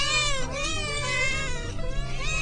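Kittens meowing repeatedly, high and close, with overlapping plaintive cries and no talking.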